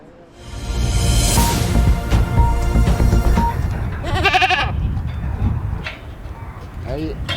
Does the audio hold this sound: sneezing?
no